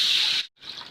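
Water poured from a glass into a hot wok of sautéed spice paste, a brief splashing rush that stops for a moment and then resumes as a softer pour.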